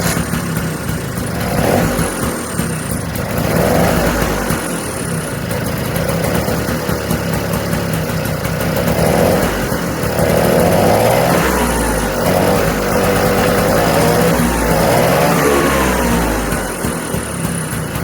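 1997 Vespa P200E scooter engine, rebuilt, running with the choke out. A loud, raspy two-stroke putter rises and falls in uneven revs and struggles to settle at idle, close up and with no talk.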